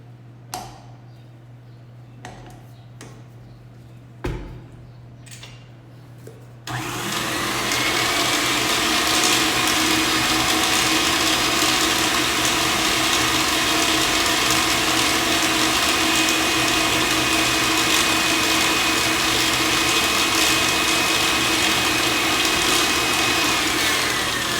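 An electric mixer beating cake batter starts after a few sharp knocks and clicks, then runs as a loud, steady close whirring drone for about eighteen seconds, with no talk.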